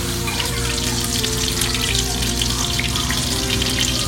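Butter melting and sizzling in hot oil in a pan before frying prawns: a continuous, loud, even crackling hiss close to the pan, with no pauses.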